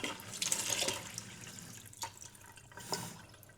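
A kitchen tap runs super-cold water to cool heated milk, a soft close splashing and trickling stream with a few drips, fairly quiet and without voices.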